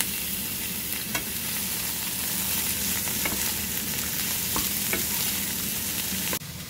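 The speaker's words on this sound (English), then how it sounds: "I'm going to add the onion and capsicum, or red pepper, and just cook and stir that until they're softened and caramelized a bit" Chopped onion and capsicum sizzling steadily in a pan for a chicken fajita casserole, a constant close frying hiss broken by occasional scrapes and taps of a utensil stirring, ending with a sudden drop.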